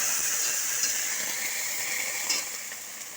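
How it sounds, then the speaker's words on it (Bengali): A small splash of water goes into a hot pan with ginger paste and dal. It sets off a loud, hissing sizzle that slowly fades and steadies, with faint stirring clicks near the end. "তো আদা বাটার পরে একটুখানি জল দেবো।"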